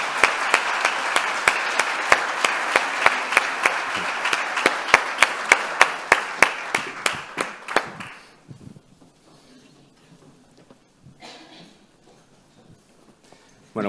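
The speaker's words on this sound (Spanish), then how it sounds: "Yo os pido que os demos un gran aplauso" An audience at a student session on the future of education claps, a dense burst of applause that settles into a few steady rhythmic claps before fading out around eight seconds, then near silence.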